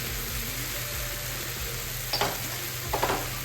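Potato and carrot with salt, sugar, turmeric, chili powder and ginger sautéed in a pan, with a steady soft sizzle and two short scraping stirs of a utensil near the end.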